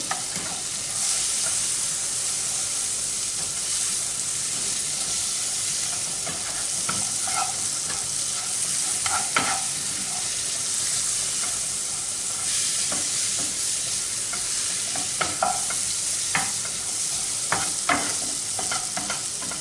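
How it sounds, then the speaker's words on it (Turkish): Roasted sesame seeds frying in butter in a pan, a continuous close sizzle with repeated scraping stirs throughout. "Kavrulan susamların üzerine bir yemek kaşığı tereyağı veya margarin bırakabilirsiniz"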